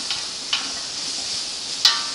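Celery, leaves and other vegetables cooking down in a pot for zucchini soup, a faint, soft sizzle broken by three light utensil scrapes or taps.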